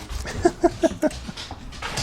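A dog whimpers close by in a string of four short, high, whining cries spaced evenly apart, over steady room noise with no talking.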